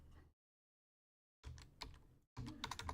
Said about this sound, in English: I'm trying to type at the same time.